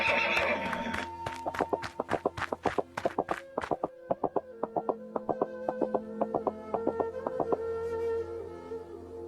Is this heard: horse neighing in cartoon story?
yes